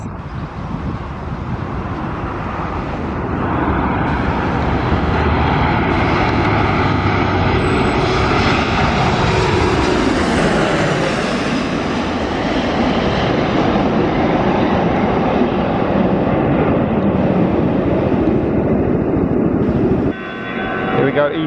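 A Boeing 737 MAX jet's engines roar loudly and build to a broad, rushing peak midway as the aircraft passes close by at the Zakynthos airport. The roar then stays strong and steady before being cut off near the end.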